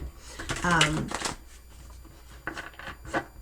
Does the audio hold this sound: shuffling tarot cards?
yes